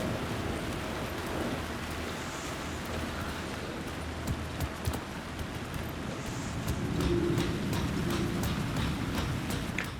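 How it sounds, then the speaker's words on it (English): Wicked heavy rain in the video game Alan Wake 2, a dense, steady roar of downpour with scattered sharp drips and splashes, loud and continuous throughout with no voices. "I love the like wicked heavy rain as well."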